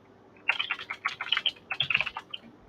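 Quick bursts of computer keyboard keystrokes come in two close, clattering runs with short pauses, loud and alone without talk.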